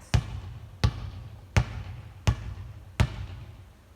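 Basketball bounced by hand on a hard floor, five evenly spaced thumps about 0.7 seconds apart, close and clear with no talk.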